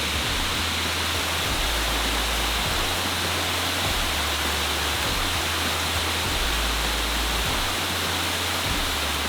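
Tannery Falls in Massachusetts, a three-tier waterfall with a log draped across it, pours in a loud, constant broadband rush that stays even throughout with no voices.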